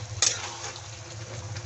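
Fried okra being stirred through yogurt masala in a pan gives a soft, continuous sizzle with a light scrape of a spoon near the start, quiet and close with no voices.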